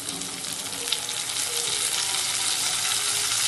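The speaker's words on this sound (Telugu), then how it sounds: "ఇందులో టమోటా ముక్కలు వేసుకున్నాము." Tomato pieces frying with cauliflower and potato in a pan, a steady dense close sizzle and hiss that holds evenly throughout with faint stirring underneath.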